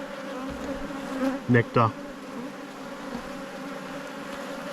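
Honey bees drone steadily around an open hive in an Australian apiary, a continuous close buzz with a few louder passes as bees fly near, while one voice speaks briefly.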